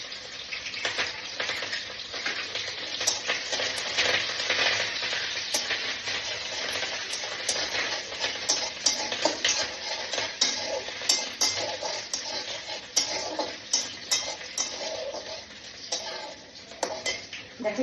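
Ginger, garlic and chopped green chili fry in a pan, a constant sizzle broken by frequent metallic clinks and scrapes of a spoon stirring against the pan, loud and close throughout.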